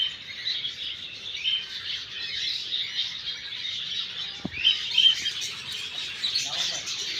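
Colourful parrots call at Indroda Park, a busy mix of shrill chirps and squawks from several birds, moderately close and continuous, with a faint murmur of background activity beneath them.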